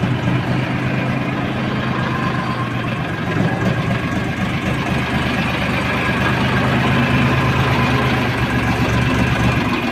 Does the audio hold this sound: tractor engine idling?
yes